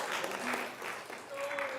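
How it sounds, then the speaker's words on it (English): An audience at a council meeting claps and cheers in a brief burst of steady, moderately loud applause, with some voices mixed in. "Well, you've got a cheering section."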